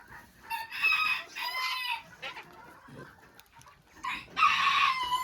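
Polish bantam hens and roosters in a backyard flock, with repeated rooster crows and clucking from several birds nearby and a few quieter calls between.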